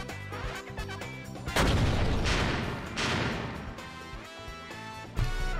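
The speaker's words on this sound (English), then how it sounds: "At the same time, a series of explosions rocks the ground." A chain of explosions shakes the ground in the video game Code Realize. Heavy booms and crashing bursts break out over a musical score, with two loud blasts close together and the rumble fading away between them.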